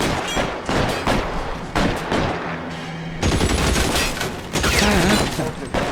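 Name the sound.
gunfire in the video game L.A. Noire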